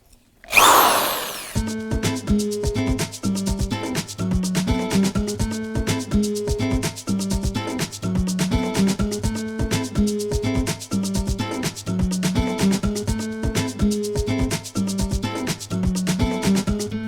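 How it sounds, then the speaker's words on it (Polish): An electric drill fitted with a 15 mm spade bit bores straight through a wooden shelf board. A sharp burst at the start gives way to a steady, loud motor whine with a regular pulsing rhythm, and no voices. "Mogę teraz na wylot przewiercić otwór o średnicy 15 mm. Do tego posłuży mi e, wiertło motylkowe, którą umieszczę w wiertarce."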